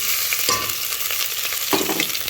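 Ginger and garlic sizzle steadily in onion-infused oil for a chicken korma, a bright crackling hiss with occasional stirring scrapes and a sharp burst as pieces hit the pan.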